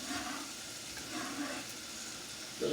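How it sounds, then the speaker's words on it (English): Soft, steady sizzling of food frying in a pan, fairly quiet and continuous, with a slight clatter near the end. "Got that sizzle going that we love to hear."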